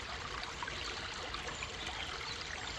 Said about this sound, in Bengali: এই যে এইখানে ছোট ছোট ছোট ছোট পানির ফোয়ারা। এই যে পানির স্রোতটা যদি দেখাই